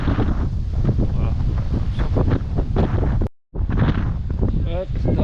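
Wind gusts buffet the microphone on a beach at Canet-en-Roussillon by the sea, a loud rumbling roar under a person talking, broken by one brief dropout.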